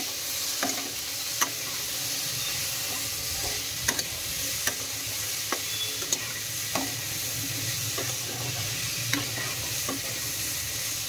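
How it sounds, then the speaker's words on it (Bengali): Potato pieces frying steadily in a pan with a continuous soft sizzle, broken by occasional sharp clicks and scrapes of a spatula stirring, heard close with no talking. "আলুটা আর একটু ভাজা ভাজা হোক"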